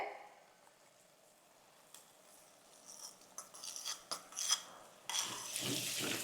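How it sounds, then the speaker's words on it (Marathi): Yogurt being stirred into spiced paneer biryani masala in a pan over low heat, heard as soft scraping and rubbing of a spoon against the pan that grows busier and louder toward the end, with no talk. "दही व्यवस्थित असं मिक्स करून घ्यायचंय आहे"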